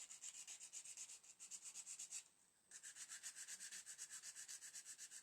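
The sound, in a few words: filing a U-boat model part with a sanding stick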